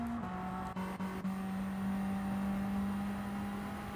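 A Cosworth-engined racing car circulating at Bathurst in Gran Turismo 7, a steady sustained engine drone holding one pitch with a small drop near the start and a few short dips, no talk.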